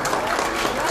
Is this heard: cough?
no